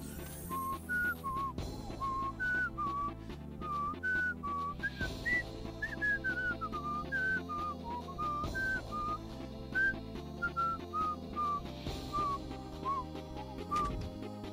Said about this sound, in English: That actually took long enough that I managed to whistle the Jeopardy theme.